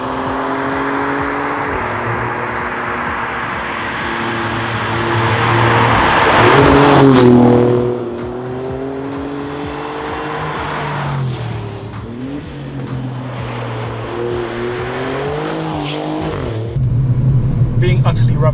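A 2017 Alfa Romeo Giulia QV drives on Australian roads, its engine rising and falling through shifts with a swell of hard acceleration midway, heard from inside the car with road noise throughout.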